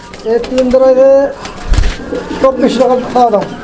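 Pigeons offered for sale as three breeding pairs give throaty, rolling coos in close, repeated bursts, with soft rustling between calls.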